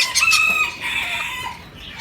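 A chicken at an animal market calls out close by in short clucking bursts with a rising squawk, set against faint background chatter of other birds.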